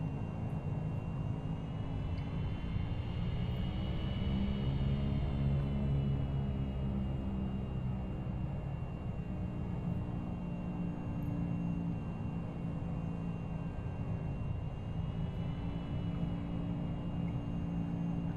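A Cessna Caravan's turboprop engine runs steadily while the aircraft taxis from general aviation parking toward runway 25 in the X-Plane 11 flight simulator, a loud continuous drone with a slowly wavering whine.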